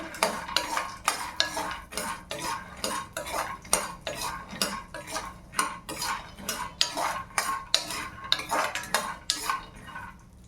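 Steady, rhythmic scraping of a spoon against a pan as peanuts are stirred while frying, close and continuous with regular strokes throughout.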